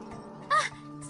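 A cat gives a single short meow, close by and brief, over a quiet background.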